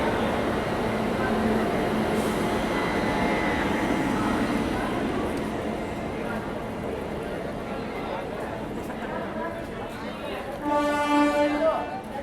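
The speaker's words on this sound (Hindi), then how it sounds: "सेनानी एक्सप्रेस का कानपुर सेंट्रल में आता है" The Swatantrata Senani Express pulling into Kanpur Central station, a steady broad rumble of the train rolling in that eases off, followed by a short tonal horn-like blast near the end.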